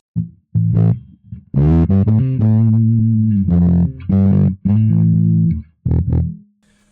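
Distorted bass guitar played through an amp simulator with cab, a run of loud, gritty, fuzzy notes in short bursts separated by brief gaps.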